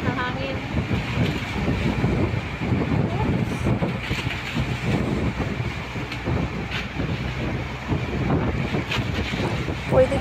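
Strong wind on Apo Island roars steadily against the microphone, a dense blustery rumble that fills the whole stretch without letting up.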